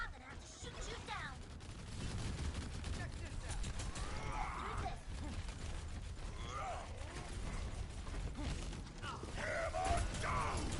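Rapid video-game gunfire rattles in bursts through a match, with mechanical clanks and creaks in the mix, under an excited commentator's voice.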